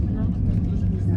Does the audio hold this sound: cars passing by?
yes